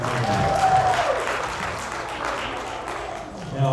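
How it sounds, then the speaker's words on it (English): Steady applause from a crowd at a memorial service fills the whole stretch, even and sustained without a break. "Give them a round of applause for that."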